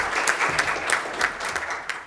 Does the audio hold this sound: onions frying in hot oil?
no